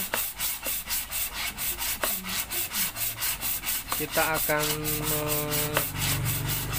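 Rhythmic sandpaper rubbing on a Honda Vario Techno scooter cylinder head, steady back-and-forth strokes about twice per second, close up, followed by a few brief clinks and a ringing tone.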